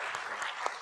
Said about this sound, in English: Can we give our last panel a great round of applause?